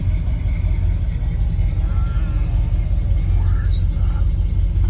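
A 1980 Ford Bronco engine runs with a steady, loud low rumble throughout, idling close by with little change in pitch, while a person speaks faintly over it.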